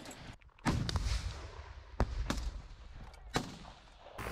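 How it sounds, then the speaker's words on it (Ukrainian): Gunshots from a US-provided weapon fired during Ukrainian Marine training in Donetsk region: three or four sharp, loud reports at irregular intervals, each ringing briefly over a steady outdoor background. "постріл!"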